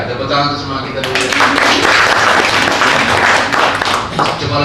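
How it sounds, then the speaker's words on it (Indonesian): Audience clapping at an Indonesian business presentation, after a short stretch of talk, grows into dense, sustained applause that fills the rest of the stretch at a steady, fairly loud level. "tepuk tangan untuk semangat kita dulu"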